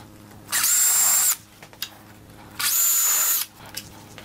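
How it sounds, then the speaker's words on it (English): A power drill drives exterior grade Torx screws into a wooden garden obelisk trellis in two loud, close bursts of about a second each, separated by brief pauses with faint clicks. "I'm just adding a couple of exterior grade Torx head fasteners to secure the X's in the middle."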